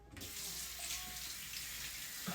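Water runs steadily from a tap to rinse bleach out of hair, a constant close hiss and splash that lasts the whole time with no talking.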